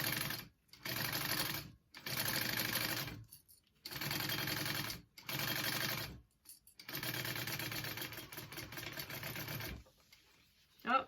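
Sewing machine stitching panels of a shoulder bag, close rapid mechanical chatter in four bursts separated by short pauses, the last run longest before the motor stops.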